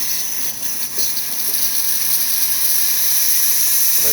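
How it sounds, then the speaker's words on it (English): A strong, continuous hiss of a Breville XL espresso machine steam wand after a full service tune-up, close and steady, with a few faint clicks near the start. "Nice strong steam."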